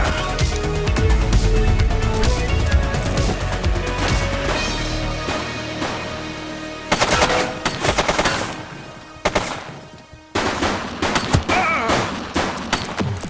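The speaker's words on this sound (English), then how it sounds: "He's shooting!" Gunfire in the police video game The Precinct: repeated sharp gunshots and bursts over a dense game soundtrack, loud and close, with crashes and some background voices.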